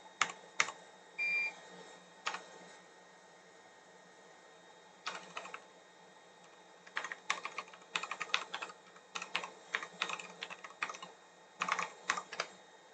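Bursts of typing on a computer keyboard, close and fairly quiet, with short clattering runs of keystrokes separated by pauses, the pace picking up in the second half.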